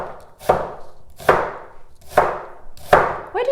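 Onions being chopped on a cutting board while cooking spiced onions, four sharp, evenly spaced knife strikes, close and loud, with a brief faint scrape at the end.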